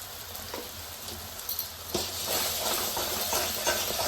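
Mustard paste hits a hot pan during preparation of a spicy Bengali bata fish curry, giving a steady, soft sizzle and hiss that swells slightly after the paste goes in, with no voices.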